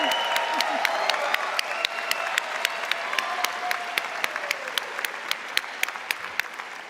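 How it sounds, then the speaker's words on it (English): A crowd applauds and cheers for the new graduates at a Mount Royal University convocation ceremony. Dense, sustained clapping with distinct sharp individual claps fills a large hall throughout. "Let's have a round of applause for the recent graduates of Mount Royal University."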